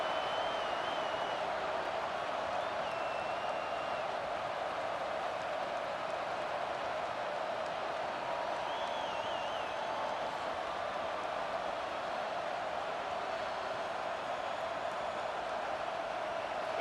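Steady, faint roar of a stadium crowd in a college football video game, Ohio State at Tennessee, a constant wash of massed voices with no breaks and a few faint whistles above.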